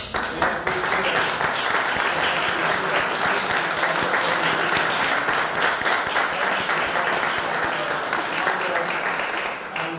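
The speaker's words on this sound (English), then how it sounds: "I would like a round of applause to Ivana, to Dino, and to Ugo." An audience claps in sustained, dense applause that stays even in loudness for about ten seconds before starting to fade, with faint talking underneath.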